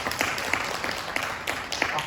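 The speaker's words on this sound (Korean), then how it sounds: "여러분 박수로 많이 환영해 주시기 바랍니다." An audience at a culture forum in Yongin claps to welcome a speaker. Scattered, fairly sparse claps ring out in an indoor hall, with several sharp hand-claps standing out over a low murmur.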